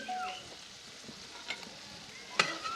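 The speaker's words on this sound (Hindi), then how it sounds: "अब इस मौके पे हम कलेजी इसमें डाल लेंगे।" Finely chopped liver frying on a hot tawa, a soft steady sizzle with a few scrapes and clinks of stirring, fairly quiet and heard alone.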